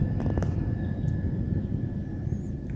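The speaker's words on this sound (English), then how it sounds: "There's a helicopter. I hear it." A helicopter flying overhead outdoors, heard as a steady, fairly loud low rumble that holds constant throughout with no talking.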